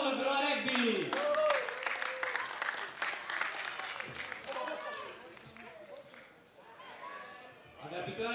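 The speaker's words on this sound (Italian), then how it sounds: "Un applauso al Verona Rugby!" Crowd applause for the Verona Rugby team at a Serie A rugby match against Rangers Rugby Vicenza, sustained clapping and cheering under an announcer's amplified voice, gradually tapering off.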